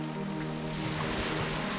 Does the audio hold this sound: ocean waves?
yes